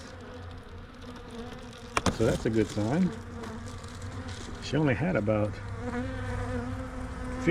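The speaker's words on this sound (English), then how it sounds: "right off the bat I can see there's more bees on the top, lots more bees" Honey bees buzz densely around the top of a weak beehive, a steady close drone, while someone talks over them in several stretches.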